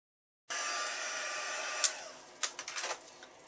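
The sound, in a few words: heat tool heat setting stamped ink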